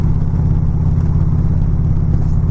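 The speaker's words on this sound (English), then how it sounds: "I think this is where the bike is at its happiest. 55 miles an hour, 6th gear, just chomping away." Motorcycle cruising on the highway at 55 mph in sixth gear, its engine a steady, loud, low rumble that holds evenly without a pause or change in pitch.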